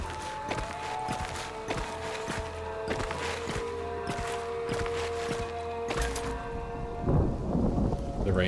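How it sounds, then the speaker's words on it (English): Steady rain falls in the video game Mind Over Magic, with rolling thunder and tonal game sound effects over it. It swells near the end, and no one speaks. "The rain is here."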